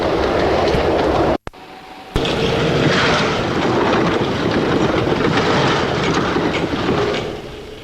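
A train rumbles loudly past with a steady rushing roar and rhythmic rail clatter, briefly cutting out before surging back.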